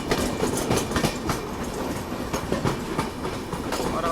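A passenger train runs on the rails near Ghaziabad in India, with a loud, steady rumble and repeated rhythmic clickety-clack of wheels over rail joints throughout.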